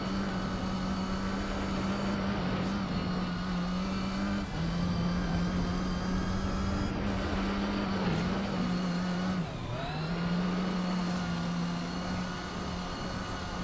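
A car engine drones steadily at high revs throughout a Gran Turismo 4 rally race in the Grand Canyon, with brief pitch dips at gear changes and no talking.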